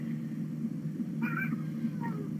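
A grumpy female cat lets out a couple of short, low complaining meows over a constant droning background hum, close by but fairly subdued.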